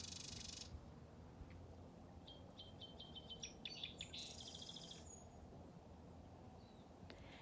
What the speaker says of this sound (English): the birds in the background